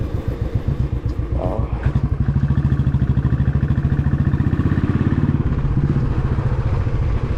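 A motorcycle engine runs steadily and loudly up close as the bike rides along a road, its rapid rhythmic throb holding through the whole stretch with slight rises in pitch.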